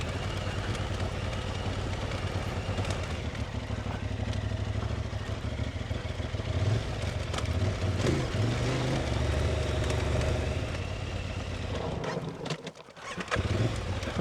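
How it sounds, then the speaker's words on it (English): A motorcycle engine labours steadily on gravel hairpins, a continuous throaty drone with clattering over the surface, then abruptly bogs down and drops near the end before picking up again. "Got a good bit of a rear wheel slide there, but managed to bog the engine down at the same time"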